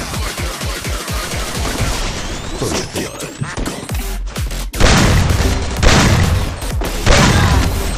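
Loud bomb explosions and rapid bursts of gunfire in the shooter game Free Fire, with close repeated shots followed by several booming blasts that dominate the mix.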